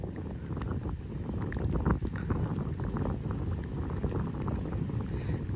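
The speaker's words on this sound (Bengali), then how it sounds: "বিলে আসলে প্রচুর পরিমাণ বাতাসের জন্য জাল ধরে রাখা যাচ্ছে না, এত পরিমাণ বাতাস।" Strong wind rushes and buffets across a flooded marsh in the rainy season, a continuous rough roar with gusty swells, heard outdoors without talk.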